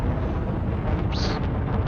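A target ship blows up in the space game Elite Dangerous, heard as a dense, loud, rumbling roar that fills the whole short stretch, with a brief high whine sweeping through the middle.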